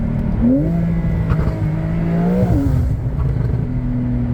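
Matte black Mercedes-AMG GT53 engine revving nearby, a loud sustained growl rising in pitch twice with steady throttle between, no talking.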